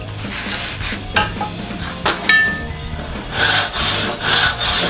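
A freshly sharpened crosscut handsaw cuts through wood in rough back-and-forth strokes, the rasping growing louder and more rhythmic toward the end.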